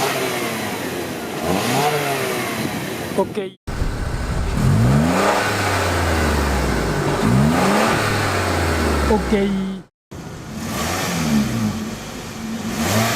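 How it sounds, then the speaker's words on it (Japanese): A Toyota Harrier's M20A petrol engine revs close up in several bursts, climbing and falling in pitch between idle stretches, with two brief cuts to silence and a short spoken word. "ハリアーの音を出します。"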